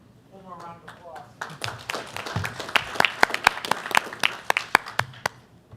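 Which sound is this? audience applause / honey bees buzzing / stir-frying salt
audience applause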